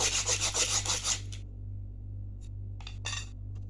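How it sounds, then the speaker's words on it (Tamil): Sandpaper rubbed briskly back and forth along a wooden bow stick, a rhythmic close rasping for about a second, then quiet with a few short scraping strokes over a low steady hum. "இந்த சாண்ட் பேப்பரை இப்படி வச்சு தேய்ச்சிக்குவாங்க நல்லா சாண்ட் பேப்பரில்"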